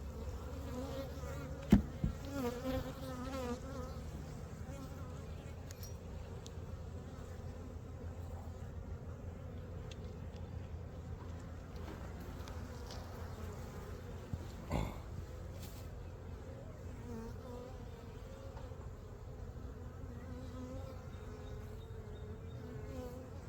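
A steady, close buzzing hum of honeybees as a hive frame of capped honey and brood is inspected, continuous throughout with a couple of brief knocks and no talk.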